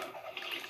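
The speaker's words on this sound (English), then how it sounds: "I just fell right into the water." A character falls into water in a Fortnite zone wars match, heard as a brief, faint watery splash and swish under a second of game audio.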